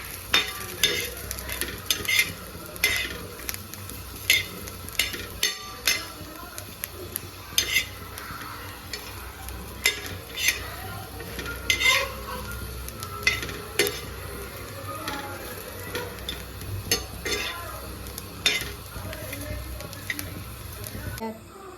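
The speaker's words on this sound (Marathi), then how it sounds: "छान भाजून घ्यायचं तव्यावर" Repeated spatula scrapes and taps on a hot griddle over a light, crackling sizzle of chillies roasting, close and fairly quiet.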